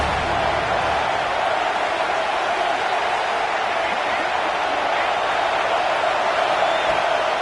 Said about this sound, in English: 3rd down play in the red zone, and this crowd is at fever pitch.